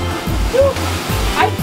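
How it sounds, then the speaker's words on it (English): Large ocean waves crashing at a fish port, a loud rushing surge of water close by, with people talking over it. "Those waves were huge."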